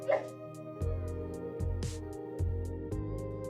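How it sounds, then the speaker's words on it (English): A dog whines indoors, giving soft, faint whimpers beneath a steady low background hum with occasional thumps. "My dog's whining in here."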